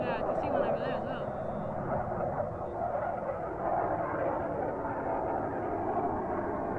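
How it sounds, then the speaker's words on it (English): Military fighter jets fly overhead above a desert plateau in Bardenas Reales, Spain, producing a steady, broad roar that fills the whole stretch without fading, loud and continuous. "we've just seen 4 fighter jets flying over this like plateau area just behind"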